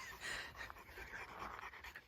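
A dog named Stanley pants deep and heavy close by on a homestead garden, quick rapid breaths in a steady rhythm over a couple of seconds.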